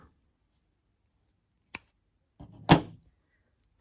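Scissors snip through crochet yarn on a beginner pumpkin project: a sharp single click, a short pause, then a louder closing snip, close and isolated in a quiet room.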